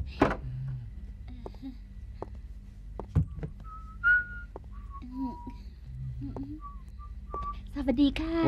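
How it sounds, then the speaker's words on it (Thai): A person whistles short, bright tuneful notes indoors in a 1968 Thai film scene, heard as a few separate phrases between soft thumps and a brief voice. "อุ๊ยตายผิวปากเก่ง"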